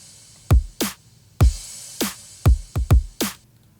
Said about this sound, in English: So I have a simple little drum rhythm here